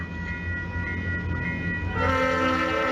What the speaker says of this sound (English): Leslie S5T air horn. That sounds amazing.